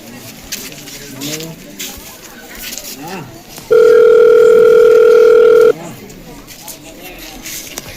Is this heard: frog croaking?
no